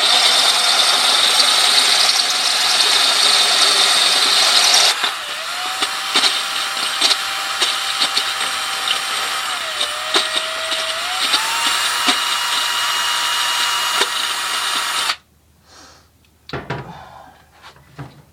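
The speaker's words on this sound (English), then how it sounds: "we just got to go in there a little light touch and let the bit grind those down" An electric drill with a diamond bit grinds through glass in a steady, loud whine, with a pitch bending as pressure changes and light scraping throughout, before the drill stops abruptly near the end and brief clatter follows.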